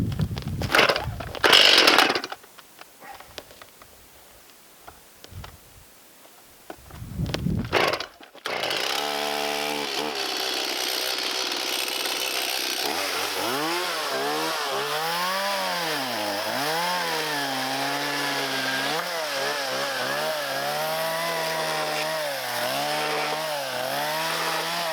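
Chainsaw bucking dead standing trees into firewood near a log cabin, starting with a few short revs and bursts, then running loud and steady under load with rising and falling engine pitch as it cuts, no talking.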